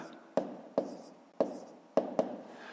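Handwriting numbers for a fifth-grade math exercise: a few sharp pen or chalk taps and short strokes, close and fairly quiet, in an irregular rhythm with no speech.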